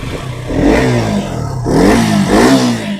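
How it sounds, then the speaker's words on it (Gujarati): A scooter engine, a Suzuki Access 125, starts and revs, rising in two close surges of throaty engine noise with a brief dip between them, near and fairly loud, with no talk. "હવે ગાડી સ્ટાર્ટ કરીને તમને બતાવી દઈશ."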